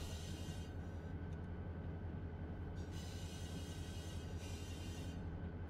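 Trains in the Run 8 Train Simulator video game rumble along steadily on the track, a continuous low rolling drone with faint wheel noise and no talking.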